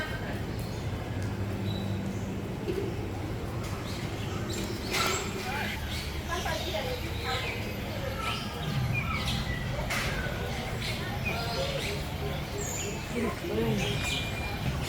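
Birds call inside an aviary at Jurong Bird Park in Singapore, with scattered chirps and short calls over a constant murmur of crowd noise and faint voices.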